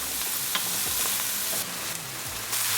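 Chopped onion sautés in a pan behind a splatter screen, giving a continuous close sizzle broken by a few scraping stirs and light clicks of a utensil against the pan.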